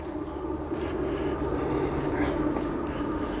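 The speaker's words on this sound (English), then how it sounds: "I hear a train." A train passing near a wooded riverside spot: a steady low rumble and rolling drone from a fair distance, continuous and moderately loud with no voices.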